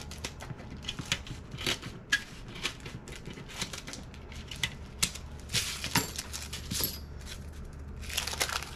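Knife or cutter being drawn along the edge of an apple cheesecake with crisp topping, giving a run of sharp, dry clicking and scraping strokes close by, irregular and steady throughout with no talk.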